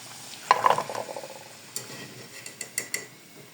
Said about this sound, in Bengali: এই যে হালকা বাদামি কালার করে ভেজে নিলাম এরকম করে সবগুলোই ভাজবো